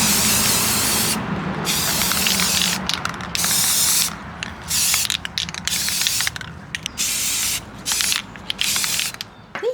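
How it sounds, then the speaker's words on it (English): Spray paint hisses outdoors onto a custom doll's hair in a series of loud bursts, some long and steady and others short and clipped, separated by brief gaps, with faint rattling from the can. "let's take him back outside and spray paint the hair"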